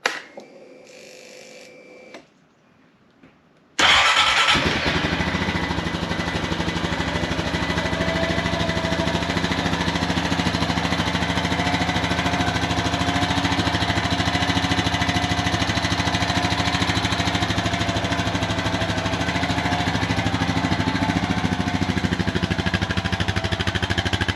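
Honda Rancher ATV engine on a cold start: a few quiet cranking sounds, then the engine catches and runs loud and steady with a buzzing, rapid beat for the rest of the time.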